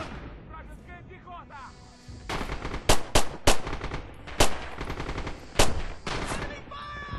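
Gunfire in a Stalingrad battle in Red Orchestra 2: loud rifle and machine-gun bursts crack repeatedly over a rumbling battlefield, with sharp isolated shots standing out and quieter radio-like chatter early on.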